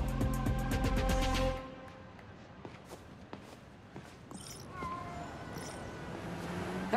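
A cat nicknamed Spider-Cat meows in the Spider-Man: Miles Morales video game, a few short meows after a loud burst of game sound, with soft footsteps and ambient game noise around them.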